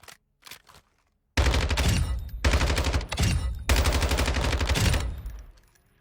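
Rifle fitted with a horizontal compensator firing in Call of Duty: Modern Warfare II, a few scattered shots followed by three long loud automatic bursts with brief pauses between them, no talk.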